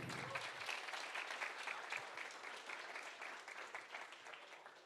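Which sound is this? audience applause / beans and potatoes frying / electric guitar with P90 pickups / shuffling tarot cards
audience applause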